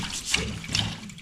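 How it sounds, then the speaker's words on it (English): Strawberries and rhubarb washed by hand in a bowl of water give a close, continuous slosh and splash with brief splashy peaks, and no one speaks. "But for now, I'm just going to wash these quickly."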